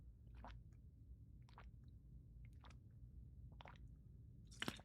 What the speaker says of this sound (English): guys gotta hear me drink water.